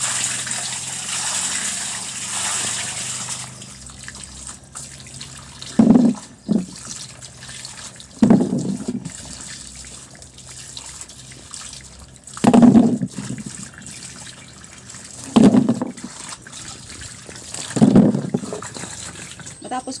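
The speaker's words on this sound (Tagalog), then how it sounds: "Hugasan ko po muna ito bago ko gayapin." Fresh kamias (bilimbi fruit) washed in water, with several short splashing bursts at irregular intervals over a soft background wash, fairly close.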